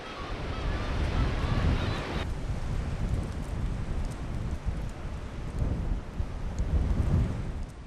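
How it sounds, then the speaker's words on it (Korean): Strong dawn wind roars over rough waves crashing at a dark harbour on the Jeju coast, a steady loud broadband rush that rises and swells throughout with no talking. "오늘따라 새벽바람이 심상치 않은데요. 파도마저 성난 듯 몰아칩니다."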